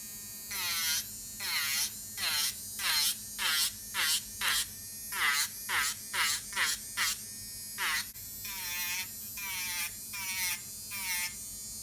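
An AIRSEE cordless nail drill running at 30,000 RPM, forward mode, whines in a string of short, high-pitched bursts that rise and fall in pitch, close and fairly quiet, with gaps between bursts.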